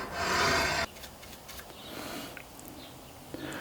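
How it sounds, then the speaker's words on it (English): A steady abrasive rasp of sanding guitar frets level for under a second, then quieter, softer rubbing strokes continue close by with no one speaking. "That way I'm not over sanding in the center or under sanding on the sides."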